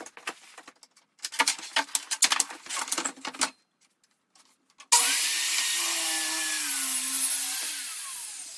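Saw cutting through a sheet of plywood during cabinet building, bursts of rough rasping and clatter, a short pause, then a loud sustained whining cut.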